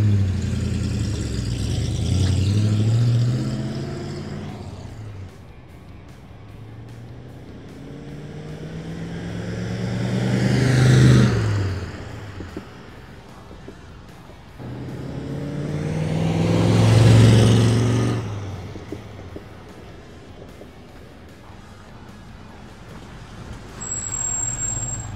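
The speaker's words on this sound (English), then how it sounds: "You want to do some flybys? Some very nice flybys." A 1956 Chevrolet Bel Air Nomad classic car makes repeated flybys, its engine rumble swelling as it approaches and fading as it passes, with two clear passes and a third beginning, heard alone without talk.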